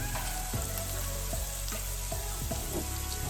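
Burger ingredients fry in a pan with a steady, close sizzle, dotted with a few soft stirring knocks and spatula scrapes; no one speaks.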